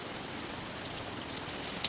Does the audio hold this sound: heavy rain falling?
yes